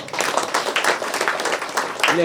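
A crowd at a pyramid opening ceremony in Gayatri Nagar, Ballari, claps in a dense, continuous round of applause lasting a couple of seconds, close and fairly loud, with a voice briefly heard near the end.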